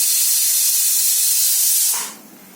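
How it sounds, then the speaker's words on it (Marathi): Pressure cooker with chicken gravy venting steam, a loud, continuous close hiss that cuts off sharply near the end, leaving a quieter residual hiss. "आता कुकरची शिट्टी गेली"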